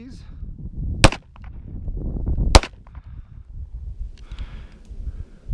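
Two sharp, loud pistol shots from a Daniel Defense H9 firing 124 grain HST rounds crack about a second and a half apart outdoors, with quiet rustling and handling noise between and after.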